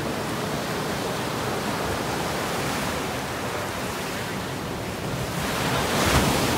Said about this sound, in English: the waves here are not so strong